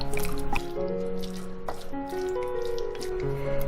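Fish belly gets stirred with starch, pepper and cooking oil, giving wet, squishy mixing and dripping sounds close by, along with clinks and a faint tonal hum under it.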